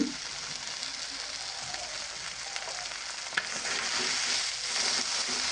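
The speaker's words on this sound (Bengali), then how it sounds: "মিডিয়াম আঁচে এগুলোকে ভেজে নিচ্ছি" Small native fish fry on medium heat, giving a steady crackling sizzle that swells slightly toward the end, with an occasional clink, quiet and close, without speech.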